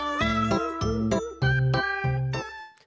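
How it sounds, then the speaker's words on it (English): Cat meows play back from a cat video, about four drawn-out, tonal mews in steady succession with a faint jingle, loud and close with no talk over them. "now we're watching cat videos"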